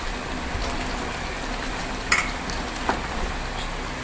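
Vegetables and coconut shrimp being stirred in a hot pan, a steady low sizzle running throughout with a couple of brief utensil scrapes against the pan.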